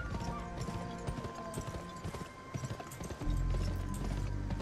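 Hooves of a horse galloping in the GUN video game, a rapid clip-clop rhythm under game music and ambience, with a brief whinny and a louder low rumble in the final second.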